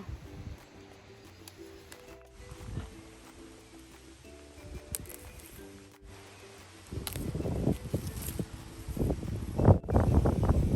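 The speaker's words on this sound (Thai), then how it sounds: "ลมแรงเหลือเกินค่ะวันนี้" Strong wind blows outdoors, a low rumbling buffet that swells and grows gustier and louder toward the end, with faint rustling.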